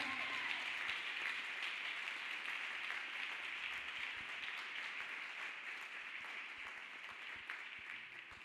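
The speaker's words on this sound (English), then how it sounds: "Let us clap hands beautifully for Jesus Christ, people of God." A church congregation claps along steadily during a testimony service, a continuous, even wash of many hands that stays fairly distant and faint throughout.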